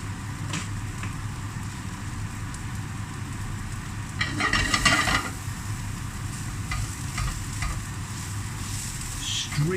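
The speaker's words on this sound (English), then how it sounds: "Straight away the thyme has hit the heat of the pan" Fresh thyme hits a hot pan with little liquid, giving a steady close sizzle that swells into a brief louder crackling burst midway before settling back.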